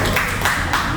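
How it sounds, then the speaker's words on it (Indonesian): Brief burst of audience hand clapping at a savings-methods seminar session, a few loud claps running together over about a second with no talk. "Tepuk tangan dong."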